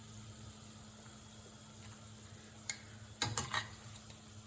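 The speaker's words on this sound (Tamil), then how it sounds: "பொரியட்டும். இதை திருப்பி விடுங்க உடனே." Gulab jamun balls frying in hot oil give a steady low sizzle, close and quiet, broken by a few brief clinks and stirring scrapes near the end.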